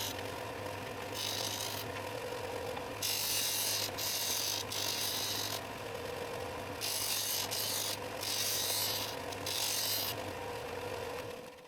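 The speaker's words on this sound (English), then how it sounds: "When the glue has dried, I sand the upper corner of each piece so that it becomes a rounded corner" Hand sanding rounds the upper corner of a glued wooden piece for a napkin holder, a series of rough scratchy strokes in bursts of a second or two separated by short pauses, close and moderately quiet over a low hum.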